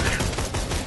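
Dense, loud bursts of gunfire from the video game Borderlands 2 fill a brief moment in a rapid, continuous crackle of shots.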